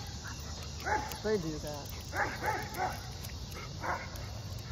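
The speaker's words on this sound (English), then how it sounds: "A dog is barking." Dog barking at night, a few short mid-pitched barks and yips scattered under close talk, with insects faintly chirping in the background.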